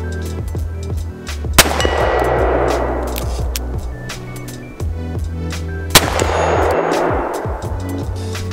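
Chiappa Rhino 60DS revolver fired single action outdoors, two loud sharp gunshots several seconds apart, each with a long ringing decay, over a steady low hum in the background.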